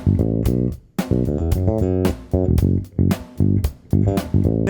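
Disco bass riff, originally played at about 115 BPM, a punchy, rhythmic bass line in short repeated phrases with brief gaps, played alone and clearly up front.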